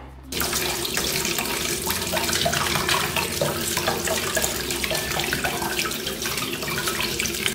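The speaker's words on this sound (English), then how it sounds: "Wash the apple under a running tap." A kitchen tap runs steadily and loudly while an apple is washed under the stream, the splashing water flowing without pause.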